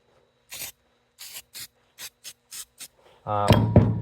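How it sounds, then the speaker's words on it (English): Several short hissing bursts from a spray can onto an alternator being restored, quick spritzes in an uneven rhythm, then a louder clunk and scrape as the can is handled. "I'm gonna spray a little bit down here"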